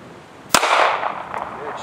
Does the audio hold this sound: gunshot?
yes